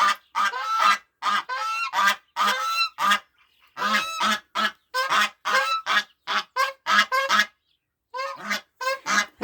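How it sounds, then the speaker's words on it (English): A flock of geese honks repeatedly and loudly at close range in a backyard garden with buffalo berry shrubs, the calls coming in dense overlapping bursts with a couple of short pauses. "Forgive the geese, they're just noisy bastards."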